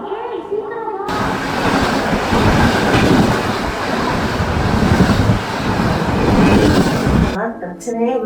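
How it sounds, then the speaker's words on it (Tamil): A train pulls into a station with a loud, sustained rumble and rhythmic clatter of wheels on rails, filling several seconds, with people talking briefly before and after. "ட்ரெயின் வந்துச்சு"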